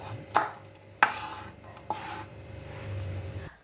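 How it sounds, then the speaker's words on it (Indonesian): A knife slices red curly chili peppers on a board, making three distinct, close scraping cuts spaced about a second apart amid quiet kitchen background without speech. "Cabai merah keriting, ini sekitar 10 buah. Lalu diiris-iris."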